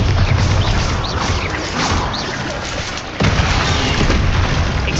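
A Bombarda spell explodes in Hogwarts Legacy with a loud, booming blast amid dense, continuous combat noise, and a second heavy impact lands partway through.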